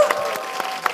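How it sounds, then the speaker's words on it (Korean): Studio audience clapping during a Korean talk show taping, a short burst of scattered claps with some faint voices underneath. "박수 한번 쳐주세요"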